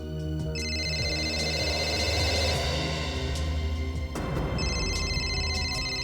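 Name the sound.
telephone ringing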